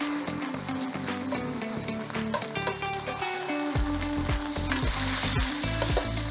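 Spicy ingredients frying in a wok with minced pork: a loud, constant sizzle with clattering spatula strokes and a rhythmic scraping pattern that grows busier toward the end, with no talking.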